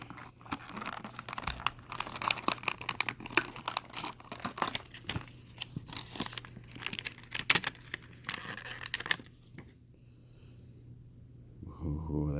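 Greenlight die-cast toy car packaging is sliced open with a razor, giving continuous close crinkling and tearing plastic with rustles and snaps. Toward the end it thins to quieter handling noise.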